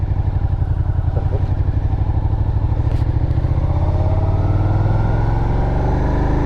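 Motorcycle being ridden, its engine putting out a steady rhythmic low throb and pulsing exhaust beat at cruising speed, with wind rush and faint clatter, close and continuous throughout.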